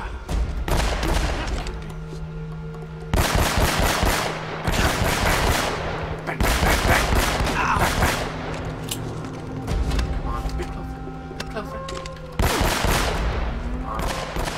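Rapid automatic gunfire in Uncharted: Drake's Fortune Remastered during a monastery firefight, loud repeated bursts of quick shots separated by short pauses, with occasional talk between volleys.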